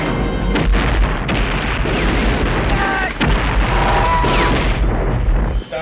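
Heavy film explosions from a bombing run boom repeatedly, with rumbling blasts, crackling bursts and debris, loud and dense throughout with brief dips between impacts.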